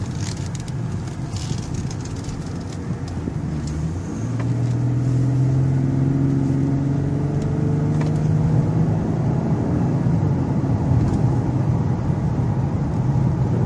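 A grey 2012 Cadillac CTS rolls along on a test drive, its engine and road rumble steady inside the cabin, with a smooth rising hum as it gathers speed partway through.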